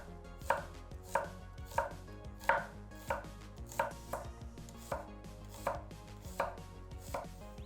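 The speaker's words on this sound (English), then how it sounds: "Now let's peel and slice the shallots." Knife slicing peeled shallots on a cutting board for Vietnamese fried rolls, about a dozen crisp, evenly spaced chops in a steady rhythm, close and fairly quiet, with no talk.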